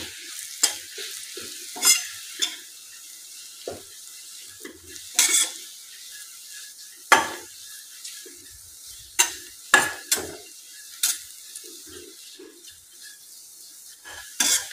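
Stale chapati breakfast mixture being stirred and fried in a pan, with a soft continuous sizzle punctuated by irregular sharp scrapes and clinks of a spoon against the metal, close up and without talking.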